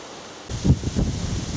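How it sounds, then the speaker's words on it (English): Wind gusts through willow leaves in a woodland meadow clearing, a soft rushing rustle that swells in after a quiet start and fades slightly, close and gentle. "Wind's got those, is it willow? That willow leaf."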